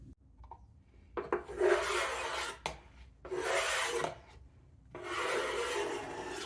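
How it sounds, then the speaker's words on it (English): Amsterdam pearl paint being scraped off a surface: three rough, rasping strokes, close and fairly loud, separated by short pauses, with no talking. "So I am going to scrape this and start over."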